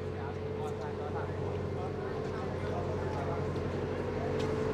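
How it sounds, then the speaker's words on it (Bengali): A small boat motors along a narrow river toward a larger cruise ship, its engine a steady low drone running throughout, with voices talking over it. "তাই আমরা এই ছোট নৌকাতে করে আমরা শিপের কাছে যাব"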